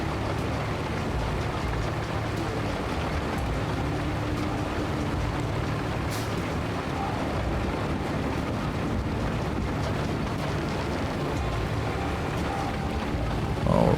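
Road-building vehicle rolling over a flat sand road in the Roadcraft video game, a steady, loud rumbling engine and wheel drone that holds unbroken throughout.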